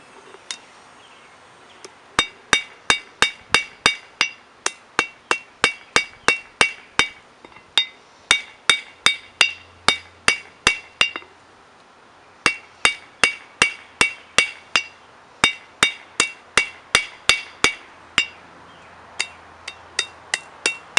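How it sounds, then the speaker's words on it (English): A hammer strikes steel while forging a leaf, ringing in steady fast bursts of sharp metallic blows with short pauses between runs, loud and close with no talk. "Now I'm just going to straighten it out and hit it so it just looks nice."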